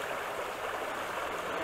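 A small stream, one of the tributaries of the Iłownica, flows steadily with a continuous close rushing and gurgling wash and no voices.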